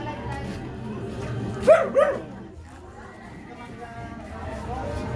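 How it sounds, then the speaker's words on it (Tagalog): A dog gives two quick barks close together, over low rumbling background noise. "Yan, mga aso."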